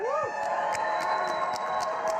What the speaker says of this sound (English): One more time for your winner, Phil Towler.